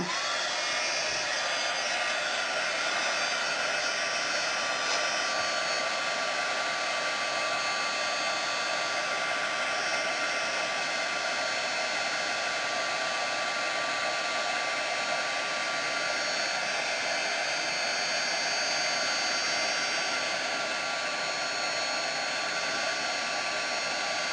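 Handheld heating tool running steadily to warm a photo stuck in a magnetic album, a continuous loud blowing whoosh with no breaks, heard alone throughout.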